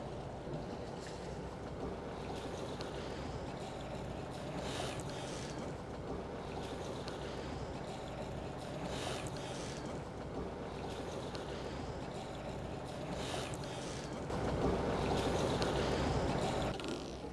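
A boat engine runs ahead on the starboard side, a steady low drone under constant wind and water noise that swells slightly louder near the end.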